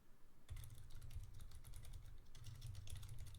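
Rapid keyboard typing on a computer keyboard, close and fairly loud, beginning after a brief quiet moment and continuing in dense bursts of keystrokes with a short lull midway.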